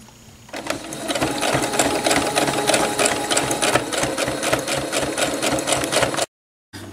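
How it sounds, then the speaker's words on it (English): A sewing machine runs a steady straight stitch around the edge of an upcycled cloth pad, a close, fast, even mechanical whir that starts after a quiet moment and cuts off abruptly near the end. "So I'm going to go ahead and do a straight stitch around the entire perimeter."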